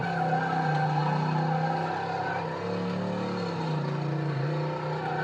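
Car Mechanic Simulator video game car driving with a steady loud engine drone and long tire skids and squeals, the engine pitch shifting as it slides, with no talking.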